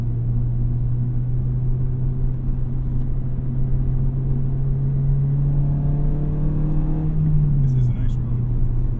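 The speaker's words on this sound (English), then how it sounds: "Got some of that really good Honda induction noise" A 2006 Acura RSX Type S on the road, its Honda engine and induction noise a loud, steady drone whose pitch climbs with revs and then drops sharply near the end, with continuous road rumble throughout.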